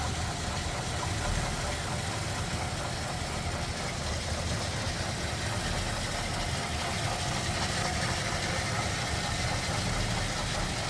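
A 1941 Ford Super Deluxe Convertible with a 6-volt system and a single carburetor idles steadily, a dense, even engine rumble with faint knocking, close and constant throughout with no voices.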